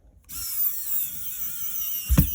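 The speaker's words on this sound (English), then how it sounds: "I believe my screwdriver is about to die" A small electric screwdriver whines steadily as it backs a screw out of a Game Boy Color handheld, running close and alone for about two seconds before a brief clunk near the end.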